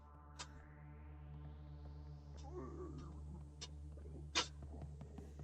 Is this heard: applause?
no